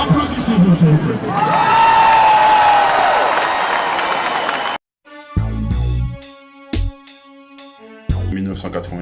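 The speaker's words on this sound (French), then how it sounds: "Applaudissez-vous, s'il vous plaît." A large audience bursts into loud, sustained applause with cheering and whoops for about five seconds, then the sound cuts abruptly to music.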